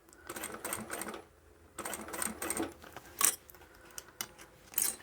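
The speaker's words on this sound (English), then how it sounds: "I'm not actually sewing right at the very top edge." A sewing machine stitches upholstery fabric for a boxed bag in several short, quiet bursts of rapid mechanical chatter, separated by brief pauses, with a faint click or two.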